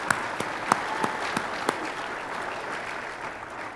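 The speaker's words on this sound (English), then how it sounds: "You can clap." Banquet audience applauds in a steady wash of clapping, with a few sharper individual claps standing out near the start before the sound settles into an even, moderately distant ovation.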